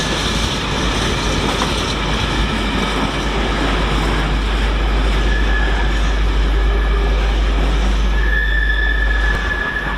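Class 56 diesel locomotive 56078 roars past at close range at Stafford on the West Coast Main Line, its loud engine drone and rumbling wheels continuous throughout, with a faint squeal near the end.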